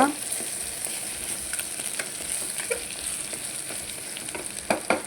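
Eggplant cooking with garam masala in a pan gives a steady close sizzle and frying hiss with occasional stirring scrapes and taps.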